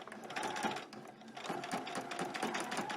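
A sewing machine runs steadily, stitching a pinned-together New Look 6280 summer dress, its needle chattering in fast even bursts up close with brief slowdowns and no talking.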